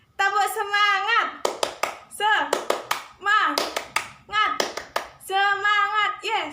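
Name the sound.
class doing 'tepuk semangat' hand-clapping routine together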